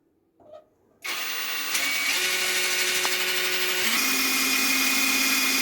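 A power drill whirs up abruptly and runs at a steady high-pitched drone, its pitch shifting slightly as it bores, close and loud.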